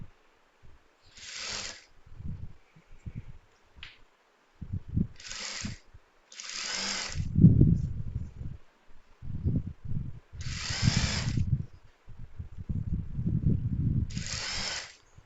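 A sewing machine stitching a frock, running in short bursts of rapid mechanical whirring and clacking, separated by pauses with a few clicks and handling noises, close by.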